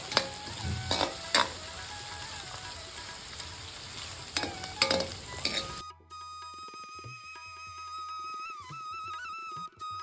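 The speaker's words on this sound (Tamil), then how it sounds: "அடுத்ததாக வெங்காயத்தை வதக்கிக்கணும். இப்போது மீடியம் ஃப்ளேமில் தான் வச்சுருக்கேன்." Chopped onions sauté in a pan over a medium flame for a baby potato fry, giving a close, steady sizzle broken by sharp stirring clacks for about six seconds before a quieter tonal background takes over.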